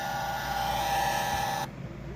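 Vintage Lifelike HO train sound effect box playing its battery-powered train horn, a steady electronic buzzing tone held for about a second and a half before cutting off, faint and alone.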